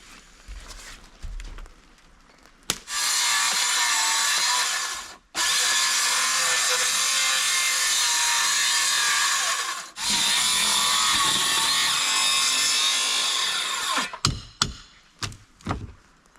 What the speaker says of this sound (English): let's go ahead and snap a line, trim that siding off, and reveal what it looks like behind there.